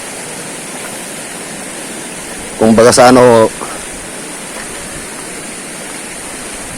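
Steady broadband rush of a flowing river at General Nakar, Quezon, loud and constant throughout, with someone briefly speaking over it midway.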